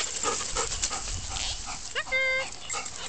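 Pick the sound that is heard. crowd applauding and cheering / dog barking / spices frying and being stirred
dog barking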